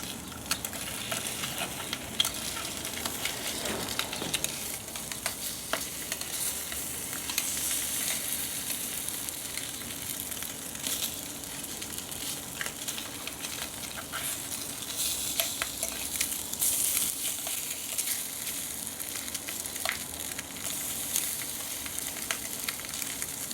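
Ham frying in a pan for a bacon-and-eggs breakfast cooked outdoors, a steady close sizzle and crackle that runs unbroken, with occasional scrapes and stirs of a utensil against the pan.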